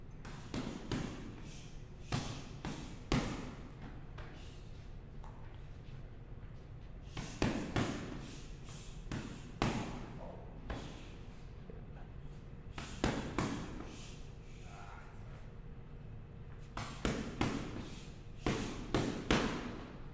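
Muay Thai strikes land on pads held as mitts in a training gym, coming as quick bursts of sharp slapping thuds in groups of three to five separated by short pauses, recorded close and fairly loud.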